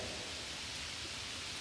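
Heavy rain pours steadily in a rural storm with flooded crop fields nearby, a dense continuous hiss filling the whole moment at moderate, even loudness with no voices.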